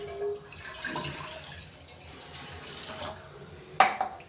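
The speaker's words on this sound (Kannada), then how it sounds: "ಒಂದು ಗ್ಲಾಸ್ ನೀರು ಹಾಕ್ಕೊಂಡಿದ್ದೀನಿ" A glass of water runs steadily into a steel pot for a few seconds, ending with a sharp clink of metal or glass near the end.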